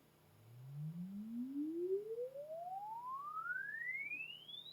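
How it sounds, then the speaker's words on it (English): A pure sine-wave sweep plays through a room, rising smoothly from a low tone to a high pitch over about five seconds at steady, moderate loudness, with no voices. "we are going to generate a sine wave sweep in the room"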